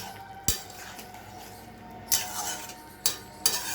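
A metal pot lid is lifted off boiling potatoes in a home kitchen and set back, giving four sharp clanks spread over a few seconds above a faint, steady simmer.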